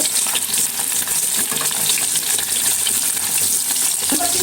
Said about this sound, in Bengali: আগে শিং মাছগুলো ভেজে নেব।